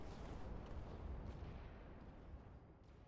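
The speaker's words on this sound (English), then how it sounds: "you can just orbital strike this" Orbital strike explosions in PlanetSide 2 roll out as a heavy, rumbling barrage of booms, layered and somewhat distant, fading slightly toward the end without any voices.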